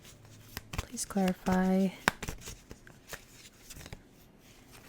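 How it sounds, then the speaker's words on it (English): Quick crisp riffles of a tarot deck being shuffled, in rapid bursts with soft flicks and taps, while a person speaks briefly. "This deck is shuffling weird."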